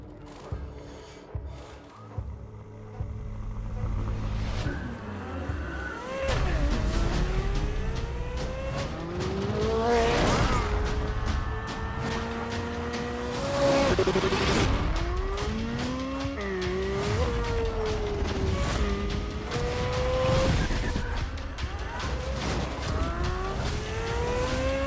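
A C8 Z06 Corvette laps a race track, its engine revving up and down through gear changes with rising and falling pitch sweeps, tire squeal and repeated passes, loud and sustained over about twenty-five seconds.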